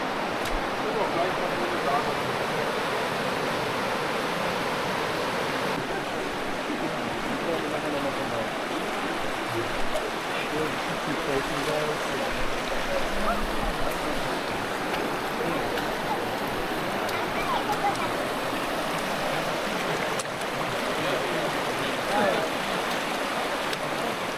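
River water rushes steadily and continuously at Zion National Park, a broad, even wash of flowing sound with no pauses.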